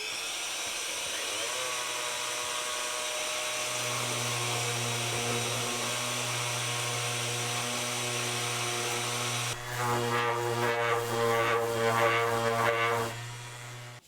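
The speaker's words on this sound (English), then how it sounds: "Brass is pretty soft, so just the random orbital sander should be fine to do it." A random orbital sander works brass parts for an oak desk lamp, a steady loud motor whine with even hum, turning rougher and more variable toward the end as the pad bears on the metal, then cutting off.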